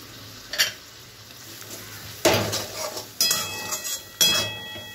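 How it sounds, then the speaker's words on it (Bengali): Spice masala with turmeric and Kashmiri chili powder frying in a pan for garlic egg curry, with three or four sharp bursts of spoon-scraping stirring and clinking over a soft continuous sizzle. "মশলাটাকে খুব ভালোভাবে কষিয়ে নিতে হবে।"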